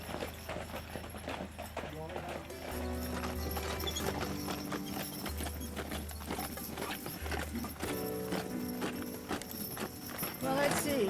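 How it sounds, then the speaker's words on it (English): A four-horse team of Clydesdales pulls a wagon, hooves clip-clopping in a steady rhythmic beat over music, with an occasional whinny. "I can hold on to a 4-horse team, which is intimidating."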